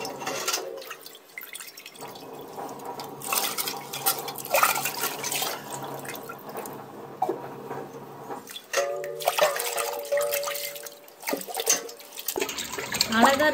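Water sloshing and splashing as clay pots are rinsed and handled, with drips and soft knocks throughout, fairly close and steady.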